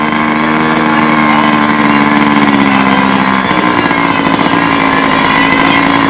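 A control-line scale model airplane engine idles steadily at a stunt and scale contest on a windy field, a continuous buzzing drone with a faint warble that holds loud and close throughout.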